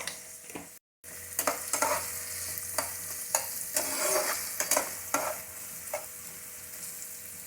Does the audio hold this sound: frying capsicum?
yes